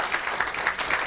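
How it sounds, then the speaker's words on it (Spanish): Audience clapping at a university innovation award ceremony, a brief burst of steady applause from a crowd in a hall. "Muy bien, un aplauso."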